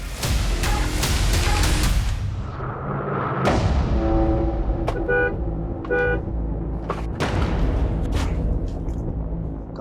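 Car horns honk in bursts amid loud street traffic while a car stands stopped in the middle of the road, with a long blare near the start followed by shorter toots over constant engine rumble.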